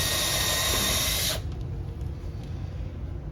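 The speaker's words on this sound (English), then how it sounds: "we'll drill us a pilot hole" A power drill whirs loudly at close range for over a second, drilling a pilot hole in wood, then cuts off, leaving quieter background noise.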